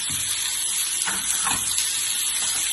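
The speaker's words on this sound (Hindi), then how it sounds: "और थोड़ा सा हम इसको सॉटे करेंगे।" Capsicum and tomato sautéing in a pan, a constant loud hiss and sizzle with faint stirring scrapes, no talk.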